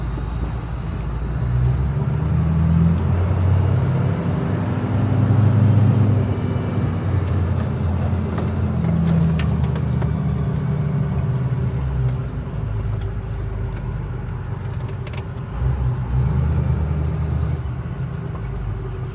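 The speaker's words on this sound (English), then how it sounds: "we just got to ride in Luke Hobbs's truck from Fate of the Furious" Luke Hobbs's truck from Fate of the Furious rumbling along as a loud, steady low engine and road drone heard from on board, with rising swells in engine note and no speech.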